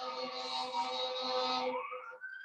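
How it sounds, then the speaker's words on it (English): Emergency vehicle siren wailing outdoors in Boston, a steady, loud, sustained tone with stacked harmonics that bends upward near the end before cutting off. "The sirens are on your side"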